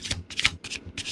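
Tarot cards riffled and shuffled by hand in several quick bursts of papery flicking, close and clear, with short pauses between rounds and no talking.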